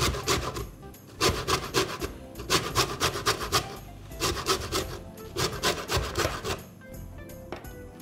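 Lemon zest being grated, a rhythmic run of rasping strokes in quick bursts, close and clear, pausing briefly before starting again, with no talk.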